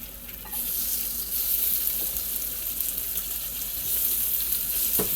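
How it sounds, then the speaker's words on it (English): Small pieces of chicken frying in batches for kung pao chicken, a dense, steady hiss of hot oil that swells as more pieces go in, close and continuous with no talk. "I'm probably going to have to fry this in batches. So I'm just going to put a little bit in at a time"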